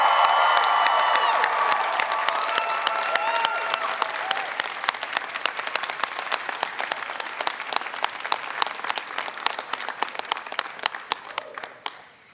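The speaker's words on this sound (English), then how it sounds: "please acknowledge your guests here tonight with a big round of applause" At a UCLA International Institute commencement ceremony, a large audience claps steadily for the graduates' guests, with a few cheers early on; the applause thins gradually and stops near the end.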